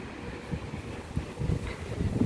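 Gusty wind buffets the microphone on a cool morning in Hong Kong ahead of a typhoon, low rumbling bursts rising and falling over a few seconds.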